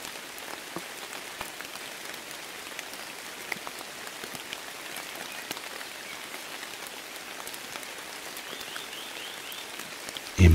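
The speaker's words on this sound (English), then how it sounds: "the rain begins to whisper down outside like nature's music" Steady rain falls outside, a soft continuous patter and hiss with scattered droplet ticks, evenly loud throughout and with no voices.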